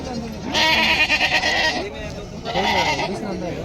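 Goats and sheep at the Loni livestock market bleat in two loud, close, wavering calls separated by a short pause, with faint market noise underneath.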